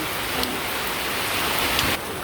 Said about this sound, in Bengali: এই যে বৃষ্টি শুরু হয়ে গেছে আবার।